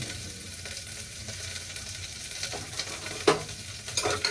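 Onions frying in a pan with mustard seeds while cooking traditional Kongunadu-style biryani, a steady broadband sizzle with occasional stirring scrapes and a sharper clatter near the end.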